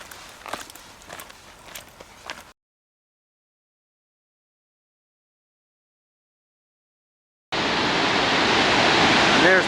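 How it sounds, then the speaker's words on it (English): Foss waterfall in Norway roars as a loud, dense, steady rush of falling water. Footsteps come first, then a silent gap, and the roar enters near the end and keeps building. "there's the Foss waterfall in all its glory"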